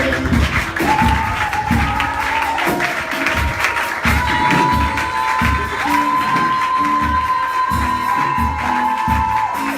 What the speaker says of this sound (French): Acclamez pendant qu'ils s'assoient